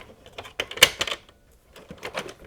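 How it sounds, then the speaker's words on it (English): IBM PS/2 P70 keyboard being connected, heard as a run of close plastic clicks and rattles with one sharp snap near the middle, a short pause, then a few more light clacks. "Now let's connect the keyboard and make sure everything fits."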